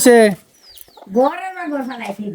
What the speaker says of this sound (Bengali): মুরগি ভিতরে কেন